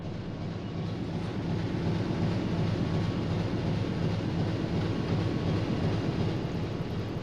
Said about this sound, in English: you will hear also the diesel engines fully